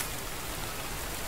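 Steady rain pouring down, a dense, even hiss of countless drops striking surfaces nearby, unbroken and fairly loud throughout the short stretch.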